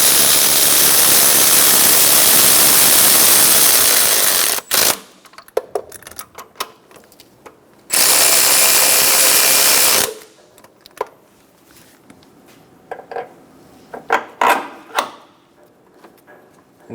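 A power tool whirs in two long, loud bursts on bolts of a 1994-1997 Honda Accord 2.2L four-cylinder engine during timing belt and water pump work, followed by scattered ratchet clicks and metallic taps up close.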